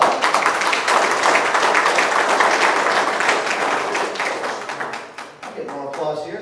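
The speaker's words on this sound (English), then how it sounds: "I get more applause here than I do on a Sunday morning preaching." Loud, dense applause from an audience at a town meeting about ATVs in Salem, sustained for several seconds before thinning out into scattered claps and a voice.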